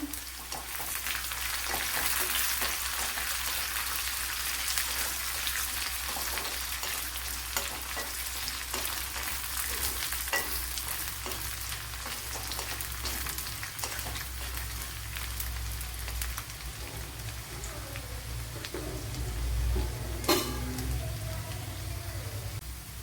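Dried red chillies fry in hot oil in a pan while tempering a ripe plantain pulissery, giving a steady, close crackling sizzle that carries on for over twenty seconds with no one speaking.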